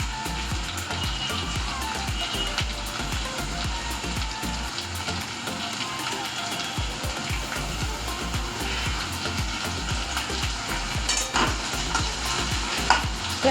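Onion frying in a hot pan for a chickpea ghugni, a steady dense sizzle with frequent scraping and clicking of a spatula stirring throughout, fairly close and continuous.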